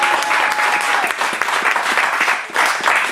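Church congregation applauding during a French-language worship service, steady dense clapping filling the space throughout, close and loud with no speech over it.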